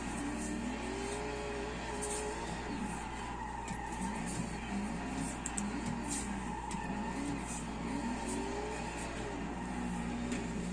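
A 1,500hp Mustang drifts in Forza, its tires screeching in long wavering squeals over a constant engine roar, loud and continuous throughout.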